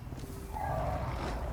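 Deep growling roars from a pair of dragons in the Demon's Souls remake on PS5, at the Gates of Boletaria, rumbling low and steady, swelling louder partway through and holding at a distant, sustained level.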